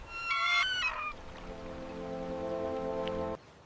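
An African fish eagle near water gives a loud, ringing call of harsh yelping notes in two quick bursts, followed by a long, steady, droning tone that runs for a few seconds before cutting off abruptly.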